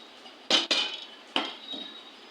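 A utensil clinks sharply against a bowl a few times while pumpkin dough is mixed with ghee, with soft scraping between the knocks in a quiet home kitchen.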